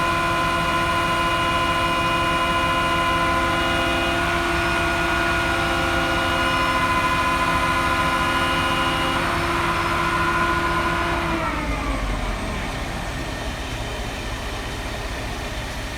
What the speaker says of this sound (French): les toupies sont arrivés, donc tu vois on a ce qu'on appelle une pumie, donc c'est un toupie pompe